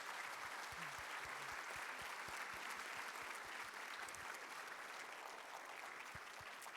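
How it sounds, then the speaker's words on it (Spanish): Steady, sustained applause from a seminar audience on green hydrogen and desalination, heard alone and fairly distant, with low thumps scattered through the first half. "Ahora los invitamos a darles un aplauso"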